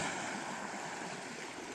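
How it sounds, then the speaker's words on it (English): Choppy lake waves on Lake Vänern wash and slosh around a kayak, a soft, continuous watery rush that stays faint and steady. "The waves now are pretty substantial"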